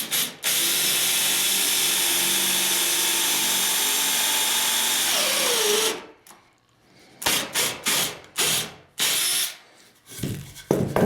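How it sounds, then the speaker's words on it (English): A Ridgid 18V cordless drill with a titanium-coated step bit bores through a 2x6, a loud sustained whine for about six seconds before it stops, followed by a few short bursts of the motor revving. "So let's drill ourselves a hole."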